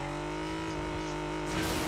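Car driving in the video game PUBG: a steady engine drone with harmonic hum holds throughout, then swells louder near the end as it revs, with no talk over it.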